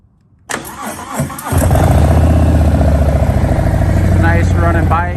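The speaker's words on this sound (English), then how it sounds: "Nice running bike" A 2021 Harley-Davidson FLSL Softail Slim motorcycle engine cranks and fires, then settles into a loud, close, steady loping idle with a throaty pulsing rhythm; a voice is briefly heard under the engine near the start.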